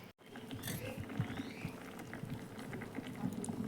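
Cabbage and drumstick simmering in a pot, a faint close bubbling and soft popping that runs steadily for a few seconds after a brief silent gap at the start.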